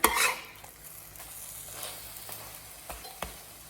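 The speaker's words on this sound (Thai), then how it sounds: "ทอดจนไข่สุกเลยนะคะ ถ้ายังไม่สุกก็กลับด้านเขาไปเรื่อยๆนะคะ" A Thai omelette of egg sizzles and fries in a pan, with a loud opening crackle, then steady hissing and a few sharp scraping stirs and taps of the utensil against the pan.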